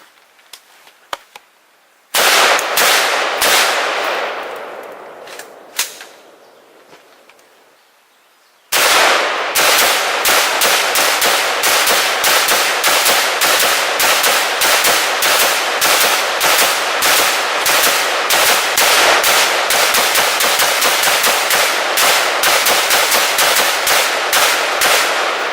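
Rapid rifle fire with NATO .223 full metal jacket and green-tip armor-piercing rounds aimed at a ballistic barrier: a loud burst of shots, a decaying echo, then a long fast string of sharp, evenly spaced cracks.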